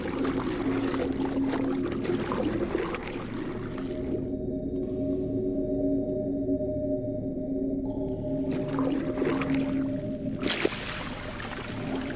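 A character swims up toward the surface underwater in the Dungeons and Dragons Online video game, heard as a muffled, steady watery rumble with low droning tones and a brief quieter stretch midway.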